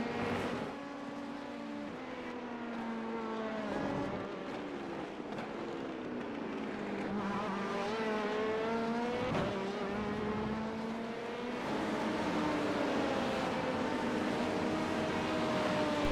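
An LMP2 prototype race car engine in the iRacing sim holds a steady, loud, high drone throughout, with rising and falling revs as gears change and brief dips under braking, heard alone without talk.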